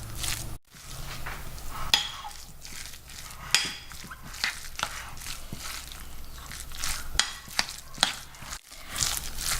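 Shrimp and pork wonton filling is stirred by hand, a close, wet squishing and slapping with irregular clicks and knocks, steady throughout with a couple of brief pauses.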